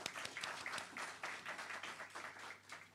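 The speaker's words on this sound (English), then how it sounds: "I do want us to give a round of applause for our guests" Faint, distant clapping from a small audience at a meeting, honoring guests, heard as scattered claps through a thin, reverberant room sound.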